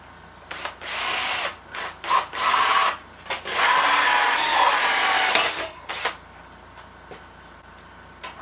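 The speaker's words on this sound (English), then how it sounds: "So what I'm going to be using is an 1 1/4 hole saw bit." A 1 1/4 inch hole saw bit drills through wood with a steady, loud whine in several bursts of one to two seconds, starting and stopping, with no talking.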